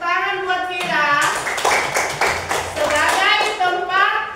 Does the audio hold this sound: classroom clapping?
yes